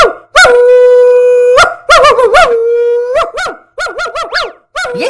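A man imitates a dog, singing in loud, drawn-out howls and yelping wails in a Holi comedy skit, with long held notes broken by quick rising yips.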